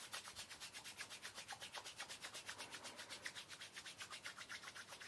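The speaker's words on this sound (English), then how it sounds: "we've laid it in the palm of our hand and we're just going to rub" A wet splice of yarn is rubbed between the palms to felt it, making a soft, rhythmic rasping that repeats about four times a second, faint and close, with no talking.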